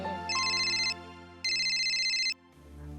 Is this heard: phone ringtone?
yes